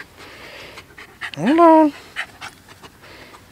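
A puppy gives a short whimpering whine with panting, close by and loud for about half a second, surrounded by a person's soft, coaxing talk.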